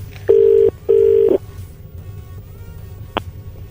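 Two long steady telephone tones followed by a short blip, heard alone over a faint background hum as someone dials a phone to call back during a prank call.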